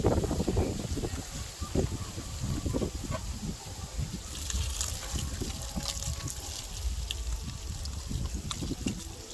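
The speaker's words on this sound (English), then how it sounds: "let me wash the fire coal off my hand" Water poured over hands outdoors beside an open cooking fire, a faint, uneven splashing and trickling that runs throughout.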